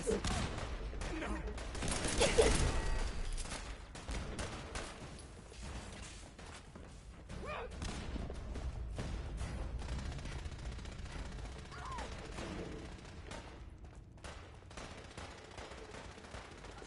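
Gunfire in the video game Fallout 4: a burst of rapid automatic shots followed by scattered single and clustered shots over background combat sounds, fairly faint overall, with voices speaking at times.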